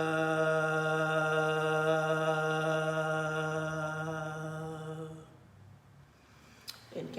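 A single voice holds a long, steady deep vowel tone for the root chakra, resonant and rich in overtones. It sustains for about five seconds, then fades into quiet room noise.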